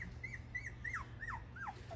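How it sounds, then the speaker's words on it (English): Tiny three-week-old Schnoodle poodle-mix puppies give a series of high, thin whimpering yips, about five rising and falling cries in two seconds over a low steady hum. "the two Two poodle puppies we're raising up here, and they're going to bark"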